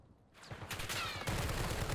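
Gunfire in Call of Duty: Warzone, a dense fusillade of rapid shots that thickens after the first second, with heavy low-end thumps and a sustained crackling roar, fairly close and continuous.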